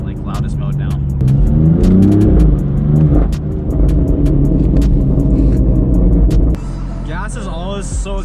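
A car's engine revs hard through an exhaust with its valves unplugged and stuck in loudest mode, a deep rumbling drone that rises and falls. It sits under steady talking and is accompanied by several sharp clicks.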